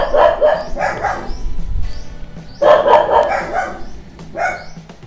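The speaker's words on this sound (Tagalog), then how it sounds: "maingay yung aso ko." A pet dog barks loudly and close by in short bursts of several barks, pausing briefly between volleys, indoors at home.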